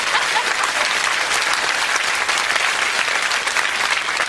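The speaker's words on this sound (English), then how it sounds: "give her a round of applause." A studio audience claps loudly and steadily for Bo Derek during a lighthearted interview, a dense, even round of applause with no talk over it.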